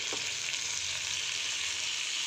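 Spicy idli pieces with garam masala, coriander powder and fresh coriander frying in a pan, giving a steady close sizzle with a brief stir near the start and no talking.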